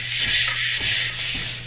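A radial drywall sander works across a high ceiling, its steady hissing abrasion rising and falling in gentle sweeps, close and fairly loud with no voices.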